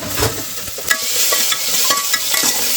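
Mustard seeds, cinnamon pieces, cloves and crushed garlic sizzling in hot oil, a steady crackling fry with a few sharp spatters and pops, no voices.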